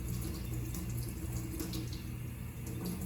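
Steady stream of tap water running into a sink while a butter knife smeared with peanut butter is rinsed, a constant close splashing rush with no voices.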